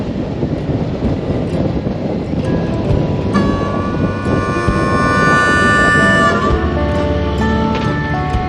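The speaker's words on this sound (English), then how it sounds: "it's very windy here to the point where there is a huge sandstorm." Loud, constant wind roars and buffets during a sandstorm on Route 66, with faint engine-like tones and rattling mixed in beneath.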